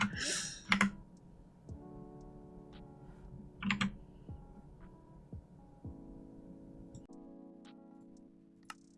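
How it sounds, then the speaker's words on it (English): Sparse, irregular computer keyboard clicks tap out over a steady low hum, with a few louder bursts near the start; no talking. "the problem is my keyboard is too loud"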